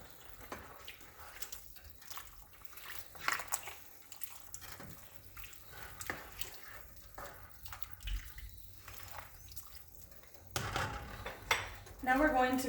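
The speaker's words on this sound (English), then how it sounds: "We're gonna go ahead and add our corn. We're gonna give that a nice little stir." A spoon stirs corn into a pot of homemade vegetable soup, giving soft liquid sloshes and scattered clinks of utensil against the pot, close and moderately loud, with a louder clatter near the end.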